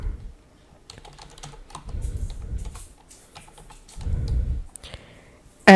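Laptop keyboard keys clatter in quick, uneven bursts of close clicking as a model name is typed into a search box, with short pauses between runs.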